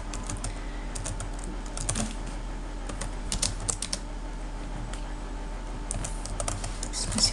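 Keys on a computer keyboard clatter in irregular clicks over a steady low hum and background noise, fairly close and moderately loud, with no talk.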